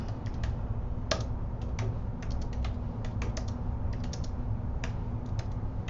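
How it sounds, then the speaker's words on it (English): Keys clatter on a computer keyboard in quick, uneven close-up bursts of typing, laid over a steady low hum, with no one talking. "type in the details of the event"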